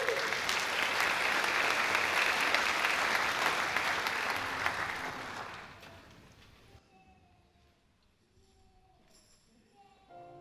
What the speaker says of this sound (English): Maybe if we give her a nice warm round of applause